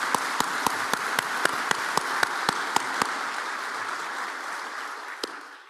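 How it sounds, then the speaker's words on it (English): Audience applause at a port's State of the Port event, a broad wash of crowd clapping with a series of loud, evenly spaced sharp claps close by standing out early, then thinning and fading toward the end. "Big round of applause, ladies and gentlemen."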